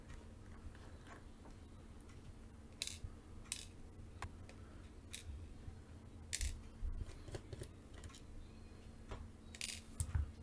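Small screws being backed out of a Steam Deck handheld's case with a zero-size driver bit: sparse faint clicks and metallic ticks at irregular intervals over a quiet, humming room.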